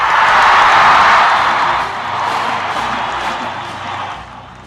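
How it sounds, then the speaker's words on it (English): A large crowd applauds and cheers as the President of the United States walks on stage, a dense wash of clapping that peaks early, dips, then carries on steadily, with no voices heard. "To much fanfare and applause, the President of the United States of America walks on stage"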